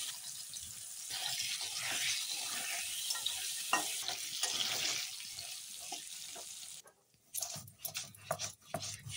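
Potatoes, added after fried chilies and two bay leaves, sizzle in a pan of hot oil in a Bengali home kitchen, a steady bright hiss with stirring clatter that drops away near the end into quieter scraping.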